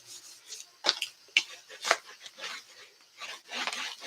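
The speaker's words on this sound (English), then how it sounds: "Burnish it." A paper fold for a stacked waterfall card is burnished along the lip of a scoring board, with three short, dry rubbing strokes spaced about half a second apart, followed by softer scraping and handling.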